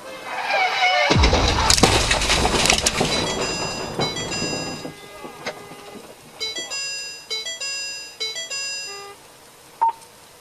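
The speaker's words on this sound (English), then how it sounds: "The cars collide head-on and the striking vehicle spins" A speeding black sedan crosses over and hits a gray BMW stopped for a traffic stop head-on, a loud sudden smash followed by scattered debris clatter and a series of electronic chimes and beeps.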